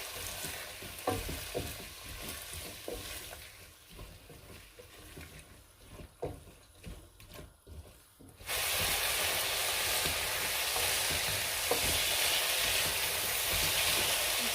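Soaked red lentils are stirred in a cooking pot for Turkish lentil soup, with scraping and stirring sounds for about eight seconds. A loud, steady sizzle then takes over and holds to the end.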